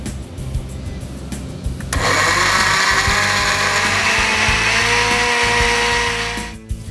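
A blender starts with a sudden loud surge and whirs steadily for several seconds, its pitch shifting slightly, then cuts off near the end, blending a smoothie.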